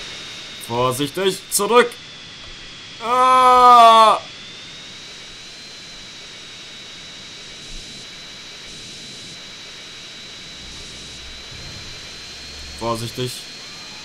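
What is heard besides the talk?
jet aircraft engine roar in video game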